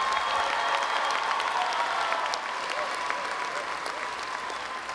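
Sustained applause from a large crowd at a university commencement ceremony, a dense steady patter of many hands that carries on evenly and eases off slightly toward the end.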